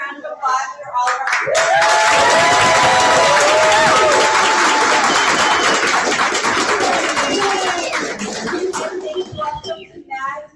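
An audience at an evening community event breaks into sustained applause and cheering, loud and dense for several seconds before tapering off, with a voice speaking and whoops rising over the clapping.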